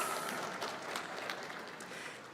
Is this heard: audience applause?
yes